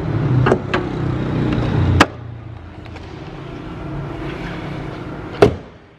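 The engine hood of a 2015 Ford New Fiesta Titanium 1.6 16v Flex is shut. A low rumble gives way to a sharp metallic thud, followed later by a louder, close slam that rings briefly.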